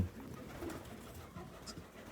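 A pigeon on a farm coos softly and faintly amid low background rustling.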